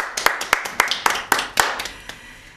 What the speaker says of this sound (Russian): Аплодисменты прозвучали в нашу честь